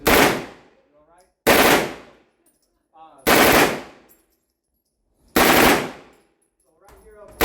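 A suppressed machine gun fires four short, loud bursts at a range, each a sharp blast that cuts off into near silence between them, with faint voices in the gaps.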